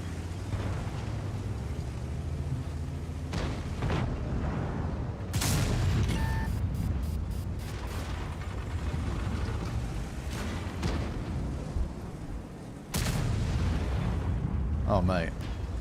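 High-explosive tank shells fire and explode in a video game: steady rumbling battle noise broken by a few sharp, loud cannon cracks and booming impacts spaced several seconds apart.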